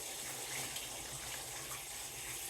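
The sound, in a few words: water poured into aquarium onto paper bag over sand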